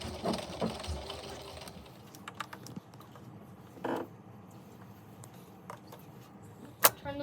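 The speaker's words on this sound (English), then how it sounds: "Sew shut, leaving a 6-inch hole to turn the blanket right side" A sewing machine stitches the edges of a fabric cat blanket for an animal shelter: short, quiet mechanical runs and clicks separated by pauses, with a sharp click near the end.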